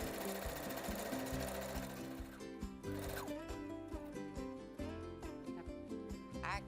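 Sewing machine stitching around the edge of two joined fabric pieces with about a centimetre seam allowance, a dense, steady mechanical whirr running throughout with brief changes in pace, close and fairly loud with no talk.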